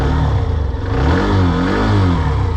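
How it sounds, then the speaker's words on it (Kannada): Hero Xtreme 125R motorcycle engine, loud and close, starting up and revving with a rising and falling mid-pitched roar and steady exhaust drone throughout, with no talking. "ಸೊ ಸ್ಟಾರ್ಟ್ ಮಾಡ್ರಿ, ಈ ಥರ ಸ್ಟಾರ್ಟ್ ಆಗೈತೆ ಗಾಡಿ."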